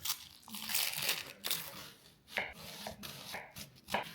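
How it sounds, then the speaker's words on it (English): An onion sliced with a knife on a cutting board for sweet potato soup, heard as a quick run of crisp, crunchy cuts with short pauses between them, close up, with no talking. "Onion, gonna slice it up."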